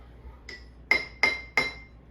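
A spoon clinks against a glass or mug as chocolate and peppermint are stirred together. Three sharp, close metallic taps come in quick succession after a softer touch, with no talk.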